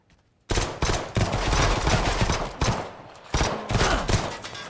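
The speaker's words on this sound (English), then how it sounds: "No one told me the recoil of this gun's gonna go crazy." Rapid gunfire from a gun in VRChat bursts in after a brief quiet moment, loud and close, as sustained automatic fire broken by a few short gaps.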